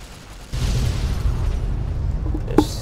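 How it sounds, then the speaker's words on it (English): Detonated charge in Fallout: New Vegas, a heavy low boom that starts suddenly and rumbles on for a couple of seconds, followed by a sharp metallic crack near the end. "Oh, I have to detonate that to get through."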